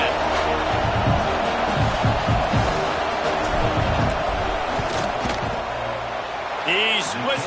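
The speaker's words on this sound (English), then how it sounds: "This crowd trying to do its part to get inside the kicker's head." Stadium crowd roaring steadily in the NCAA 26 college football video game as the field goal unit lines up for a kick, a dense continuous din with scattered claps and shouts.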